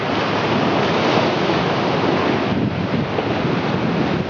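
Ocean surf rolls onto Fukushima Beach on the Japanese coast, a steady loud wash of breaking waves mixed with wind buffeting the microphone, continuous throughout with no voices.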